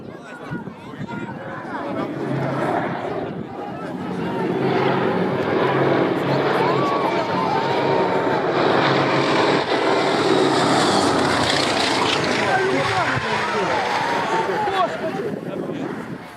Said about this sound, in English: What do you think of these plane landings?